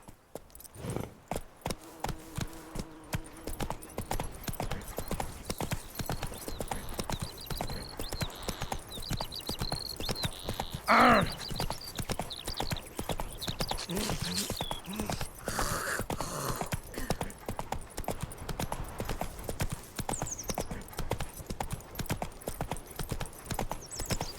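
A horse gallops in The Witcher 3, its hooves drumming a steady, rhythmic clip-clop throughout, with a short whinny-like cry partway through.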